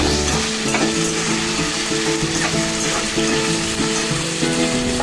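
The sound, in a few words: frying ivy gourd (dondakaya) in oil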